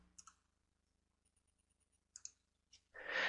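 Sharp, close computer mouse clicks, made while saving a file in MATLAB, come in small isolated bursts separated by quiet, then give way to a short rush of broadband noise.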